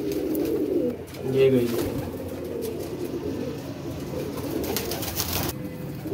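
Flying pigeons coo in low repeated rolls beneath someone talking close by, with steady background noise throughout.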